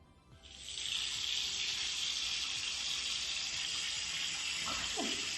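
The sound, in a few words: running water from a tap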